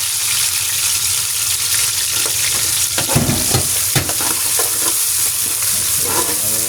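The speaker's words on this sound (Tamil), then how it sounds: "இந்த சின்ன வெங்காயத்தை இந்த எண்ணெயில் போடுறோம்" Small shallots frying in hot oil and ghee for a Pudukkottai feast curry, a loud continuous close sizzle with bursts of stirring and scraping in the middle, no voices.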